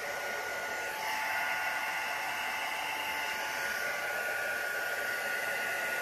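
A hair dryer blows steadily up close over resin coasters being tinted with alcohol inks, a continuous loud airy whoosh running the whole time with no pause.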